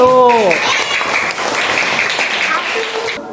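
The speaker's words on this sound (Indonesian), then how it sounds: "Oke, tepuk tangan untuk kelompok 1." Children clap for a school group in a classroom, a steady broadband patter of many hands that follows a short sung or spoken tone at the start and fades near the end.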